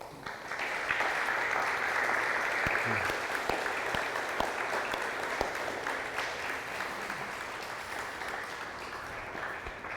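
An audience applauds for don Mau after a talk on suffering, a steady wash of many hands clapping that swells in after a second, holds at even strength and thins slightly toward the end.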